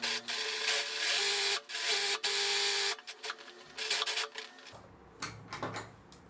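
A sewing machine runs in short bursts of rapid mechanical whirring as it stitches a zigzag seam on a cloth bib, with pauses between runs and then fabric handling sounds at the end.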